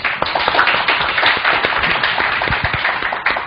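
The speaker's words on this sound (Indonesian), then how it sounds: "Kita beri tepuk tangan dulu." Close, loud applause from an audience at a business talk welcoming an invited CEO, dense sharp hand claps with individual slaps standing out, no talking over it.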